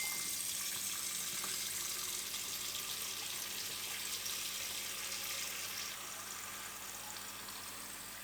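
Tap water runs steadily into a film developing tank being filled for washing, a continuous close hiss and splash with no talk.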